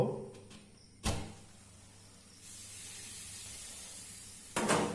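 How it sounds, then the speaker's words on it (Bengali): Lid lifted off a pot of freshly cooked biryani in a home kitchen: a sharp clank near the start, then a soft steamy hiss, and another clatter of the lid near the end. "এবার আমি ঢাকনাটা খুলব।"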